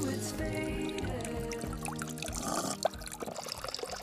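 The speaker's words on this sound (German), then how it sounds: "Oh, schau, dort hat es einen Brunnen." A wilderness fountain splashes and trickles quietly in the outdoors, a soft, continuous pour of water that stays faint and distant with no voices over it.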